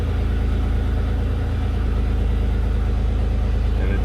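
A Jeep WJ engine idling just after a cold start on new injectors, a loud, steady low rumble with an even throb that holds close-up for the whole stretch.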